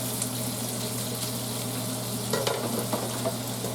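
Sausage and penne arrabbiata sizzle steadily in a hot pan, a dense continuous frying hiss with a few scraping tosses partway through, close and without talk.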